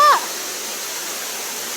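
A waterfall where fish gather, a steady broadband rush of falling water running evenly through the whole stretch after a brief tonal sound at the very start.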